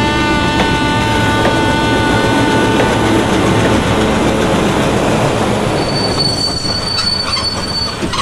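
A train rolling along rails with sustained high metallic wheel squeal and steady mechanical rumble, close and loud throughout, with no voices.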